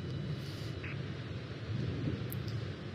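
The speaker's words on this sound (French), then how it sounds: "quand tu vas entrer dans un orage, que tu vois un orage au loin" Thunderstorm rumble heard while flying an F-18 in Microsoft Flight Simulator, a low continuous rolling thunder with rain-like hiss and no clear cracks, steady and moderately loud throughout.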